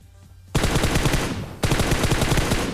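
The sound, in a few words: footsteps and gunfire in video game PUBG Mobile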